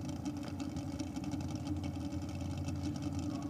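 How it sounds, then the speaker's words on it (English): A Bantam altered drag car with a 396 cubic inch Chevy engine idles steadily at a drag strip, a continuous low rumble with no speech over it. "Sounds like the car is running,"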